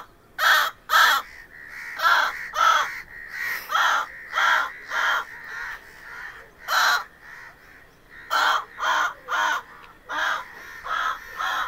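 A man imitates a crow's caw with his voice, a loud, close run of short harsh caws in quick rhythmic bursts, broken by a brief pause partway through.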